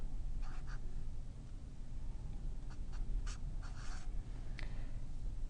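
Math being handwritten on paper or a board during a prime factorization, heard as faint, brief scratchy strokes in short groups over a low, steady background hum.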